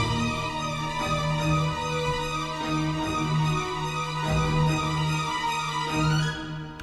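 MIDI orchestral first violins carry a steady repeating pattern inside a dense, continuous orchestral texture with low pulses beneath, moderately loud and alone.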